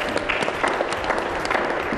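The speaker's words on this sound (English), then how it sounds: "give them a round of applause as well" Audience applause for the television crew at a climate action townhall, a dense steady patter of many hands, continuous and fairly loud throughout.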